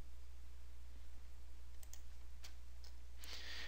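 A few faint computer mouse clicks while working in SolidWorks CAD software, sharp little ticks spaced out near the end over a steady low hum, with no talking.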